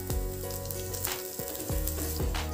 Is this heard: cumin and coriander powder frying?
yes